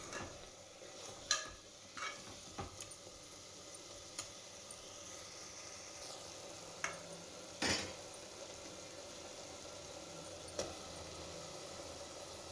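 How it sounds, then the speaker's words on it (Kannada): Vegetables and tomato fry in a pan, a soft steady sizzle broken by scattered clinks and scrapes of a spoon stirring, quiet and close. "ಇದನ್ನು ಹಸಿ ಹೋಗೋವರೆಗೂ ನೀಟಾಗಿ ಫ್ರೈ ಮಾಡಿ ಆಮೇಲೆ ನಾನು ಟೊಮೆಟೊ ಸೇರಿಸ್ಕೊತಾ ಇದ್ದೀನಿ"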